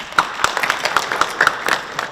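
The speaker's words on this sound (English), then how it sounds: "Give yourselves a big round of applause." An audience in Bridges Auditorium at Pomona College applauds after a California governor debate, with sharp claps bursting out unevenly and steadily across the room, moderately loud and fairly close, with no one speaking.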